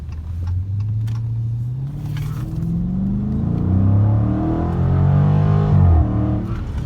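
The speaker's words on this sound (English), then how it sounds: "Let's see what this thing got, man." A 2020 Dodge Challenger 392 Scat Pack Widebody accelerating hard, its engine note loud and close, climbing steadily in pitch through the gears for several seconds with no talking.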